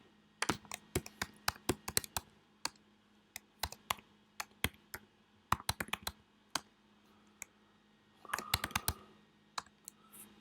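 Rapid, irregular clicks of typing on a computer keyboard, close and fairly quiet, with bursts of keystrokes separated by short pauses and no voices.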